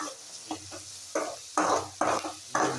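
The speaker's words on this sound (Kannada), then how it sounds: "ಈರುಳ್ಳಿ ಸ್ವಲ್ಪ ರೋಸ್ಟ್ ಆಗಬೇಕು" Onions frying in a pan for chicken curry, with several short bursts of stirring and scraping over a low, steady sizzle, close and fairly quiet.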